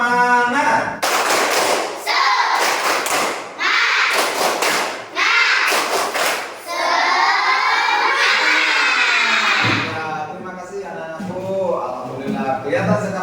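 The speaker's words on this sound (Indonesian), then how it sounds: "Tepuk semangat." Fourth-grade schoolchildren in an Indonesian classroom perform a rhythmic clapping chant: sharp clusters of group claps and stamps in a set pattern, broken by loud shouted chanting, close and energetic, ending in sustained voices.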